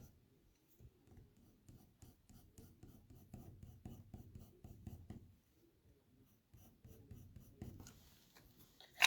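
A colored pencil in burnt ochre shades on paper while a barn owl drawing is darkened near the wing edge, making soft, close, rhythmic scratching strokes in bursts with brief pauses.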